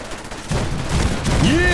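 Cannons boom in the video game Fallout 4, a rapid cluster of heavy blasts with rumbling echoes, loud and close, with game effects ringing out at the end.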